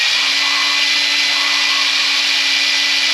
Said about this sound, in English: Imagine like the stone going from a big grind to a small grind, like it's going from coarse to fine.